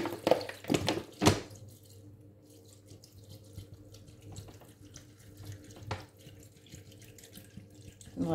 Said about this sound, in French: nous allons maintenant ajouter de l'eau